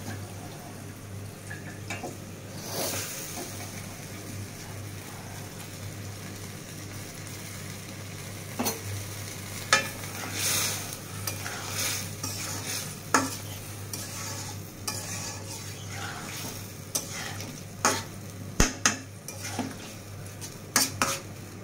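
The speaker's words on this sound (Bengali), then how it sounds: "এখন এই মশলার মধ্যে মাছগুলো কষিয়ে নেব" Stinging catfish (shing) being stirred and fried in a spice masala in a pan, with a steady low sizzle and repeated scraping and clinking of a utensil against the pot, close up, with no talking.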